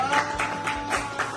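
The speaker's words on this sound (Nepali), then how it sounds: "ताली बजा फेरि पनि" Clapping during a Nepali worship song, a steady rhythm of about five claps in quick succession over a sustained musical tone, close and moderately loud.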